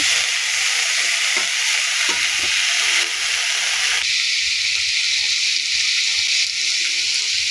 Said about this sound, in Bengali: এখন আমি এখানে সিদ্ধ করা ডুমুর অ্যাড করব।